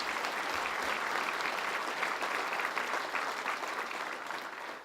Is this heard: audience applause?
yes